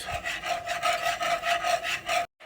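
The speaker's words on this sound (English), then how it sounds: "add in your ½ cup of your flour, and you want to make sure that you whisk this until it gets nice and smooth" Flour being whisked into melted butter in a pan, a quick, even scraping rhythm of the whisk up close that stops abruptly at the end.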